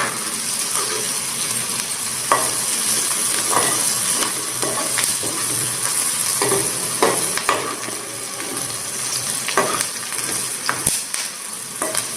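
Poha with peanuts is stirred in a hot pan, a steady hissing sizzle broken by repeated scrapes and taps of a spatula against the metal, close and even, with no speech.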